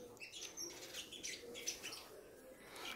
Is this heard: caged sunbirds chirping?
yes